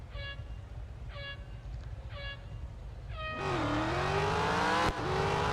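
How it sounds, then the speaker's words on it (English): A racing car's engine in the video game Real Racing 3, heard after a few short high tonal chirps: the engine suddenly revs up loud and close, its pitch climbing and then holding steady to the end. "I love the sound of the engine of this car."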